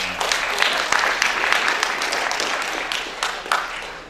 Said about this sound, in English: How about one more round of applause for our